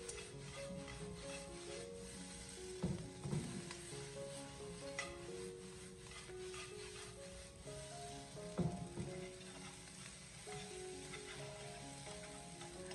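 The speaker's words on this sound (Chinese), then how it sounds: "紧接着再把切好的鸡蛋丝放进来，然后再继续的开大火进行快速的翻炒" Egg strips and sauce hiss and sizzle in a wok over high heat, a continuous frying crackle punctuated by a few clanks of the spatula while stir-frying, with music playing faintly underneath.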